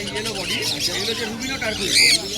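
Birds chirp and squawk among the crowd at the Serampore pet bird market, with people talking throughout and a brighter, louder call near the end.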